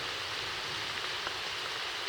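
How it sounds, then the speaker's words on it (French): Rain falling steadily during a thunderstorm in a rocky canyon, a dense, even hiss of drops close around with no voices. "Et ben là je suis bien sous l'orage. Hein. Il pleut, c'est super glissant."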